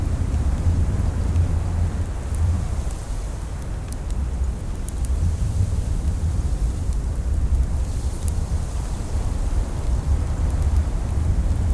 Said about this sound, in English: there's going to be lots of storms like this